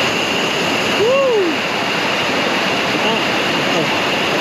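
At a forest checkpoint where two rivers meet, a river rushes in a loud, steady, broadband roar with no break. A faint voice-like tonal sound rises briefly above the water.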